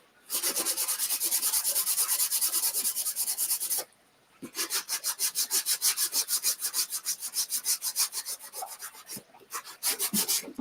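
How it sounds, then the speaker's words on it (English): An electric sander works along the edges of a paper bag wreath, buzzing in a steady, loud rasp, breaking off briefly, then returning in rhythmic pulsing strokes with a short pause near the end. "I'm just kind of sanding the edges."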